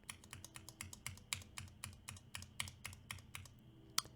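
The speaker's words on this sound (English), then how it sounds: "So here is the Cherry MX Red." Steady run of keystrokes on Cherry MX Red linear switches in a TOFU60 keyboard, about four clacks per second, close and clear, with a sharper final key hit and no talking.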